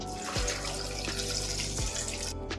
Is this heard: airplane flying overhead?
no